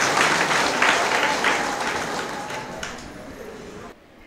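A large audience at a women's gathering at Srivali School, Chitrapur, Shirali claps loudly in a dense, sustained burst that stays strong, then cuts off abruptly near the end.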